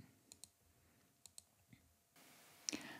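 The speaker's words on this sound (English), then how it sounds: "I'm just clicking on a line and then hitting the delete key on my keyboard to remove it" Mouse clicks while editing a quilt block in quilt design software on a computer, several sharp isolated clicks spaced apart, close and quiet, with a louder keyboard key press near the end.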